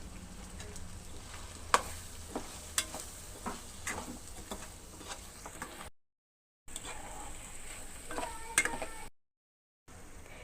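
Chili powder being stirred into a frying egg and chicken curry in a pan, giving soft scraping and stirring strokes over a low sizzle, with a few brief breaks.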